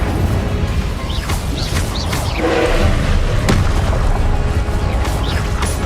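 Spell blasts and explosions in the video game Hogwarts Legacy, several booming impacts and crashes over a continuous dense bed of game effects and music.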